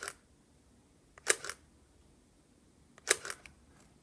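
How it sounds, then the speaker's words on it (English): Shutter of a Leica M 262 rangefinder camera firing twice, each a quiet, crisp double click about two seconds apart, close up in a hushed room. "let's fire off a few frames to hear the sound of the shutter"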